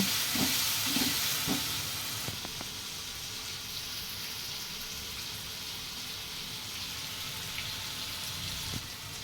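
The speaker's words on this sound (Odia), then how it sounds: "ଟିକେ ଭାଜି ସାରିଲା ପରେ ସେଥିରେ ସଲ୍ଟ ଆଉ ଯେତେ ସବୁ ଆମର ପାଉଡ଼ର ମସଲା ସେସବୁକୁ ଦେଇକି ଟିକେ ଭଲ ଭାବରେ ଭାଜିଦେବା" Ginger garlic paste frying in a pan with salt and powdered spices, a steady close sizzle with a few stirring knocks early on, continuing evenly throughout.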